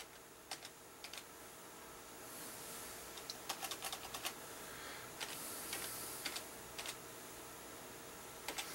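Someone types a short command on a computer keyboard, producing quiet, close, irregular key clicks in small clusters with gaps between them.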